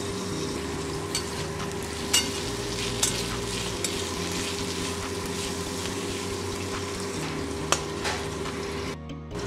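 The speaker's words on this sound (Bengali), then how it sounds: "টমেটোটা ভালো করে ভাজা হয়ে গেছে" Tomato and potatoes frying in oil in a pan for a Bengali kachki fish teljhal, a steady close sizzle with occasional stirring scrapes and a few sharp clinks, no talking.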